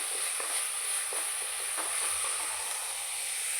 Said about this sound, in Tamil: வெங்காயம் வணக்கிட்டு இருக்கோம் பார்த்தீங்களா?